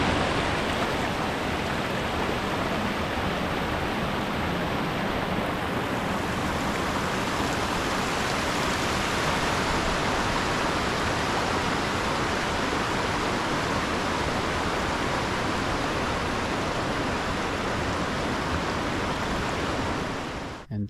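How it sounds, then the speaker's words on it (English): A small waterfall at a lagoon in Alaska gives a steady, dense rushing hiss, constant and fairly close, with no voices over it. "there's a nice little waterfall I wanted to go take a look at."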